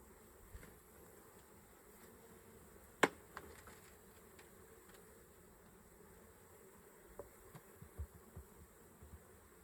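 Honeybees buzz faintly around a beehive during feeding, a soft continuous hum broken by a few close, sharper passes and light clicks.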